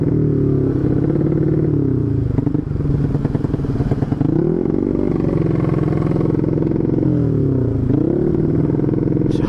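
A Honda Beat 125cc scooter fitted with an Empush EM1 round aftermarket exhaust, ridden through a residential complex, its deep throaty drone rising and falling with throttle changes, loud and continuous with no speech.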